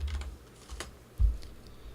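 A name is typed on a computer keyboard: a brief burst of light key clicks near the start, then a louder, heavier keystroke tap about midway, close and clear with no speech.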